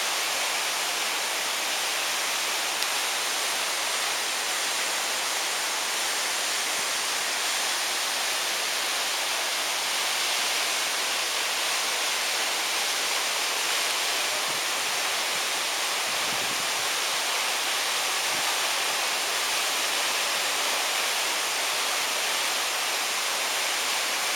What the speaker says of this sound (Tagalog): Tot Palos Waterfalls.